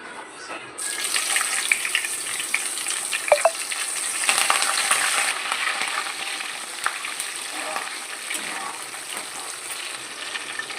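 Cloves and bay leaves frying in three to four spoons of hot oil in a kadai, giving a steady close sizzle and crackle throughout with a few sharper pops and no talking.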